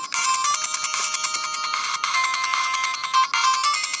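Bright, chirpy electronic game music blares from the small, tinny speaker of a Bitt Boy Version 3 handheld console, loud and continuous with short melodic bleeps throughout.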